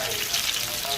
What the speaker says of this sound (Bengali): তো জালিগুলো আগে ভেজে নিব